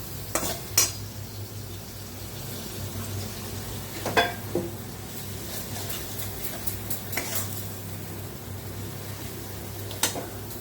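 Chitol fish frying in a pan while being stirred, with a steady low sizzle and a few sharp scrapes and clinks of the utensil against the pan spaced through the stretch, heard close with no talk.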